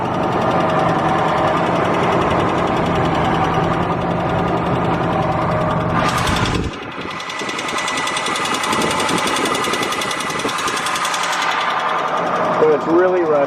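A 1991 Mitsubishi Mighty Max's fuel-injected four-cylinder engine idles steadily up close, its fast light valve tapping running through the drone, with a brief shift in tone midway and speech over it.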